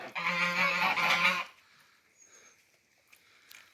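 A goose gives a loud, drawn-out honk up close at a village house on a rainy morning, followed by quiet background with a few faint distant chirps.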